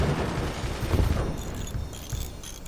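Mortar volleys in the game Forts, a dense, steady barrage of booming, crackling fire with low thumps, thinning toward the end as higher clinks ring out.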